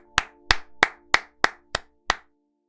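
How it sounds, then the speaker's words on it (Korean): A single person claps seven times in an even, moderately quick rhythm, each clap crisp and close, with silence between. "박수 치면서 리뷰 마치도록 하겠습니다"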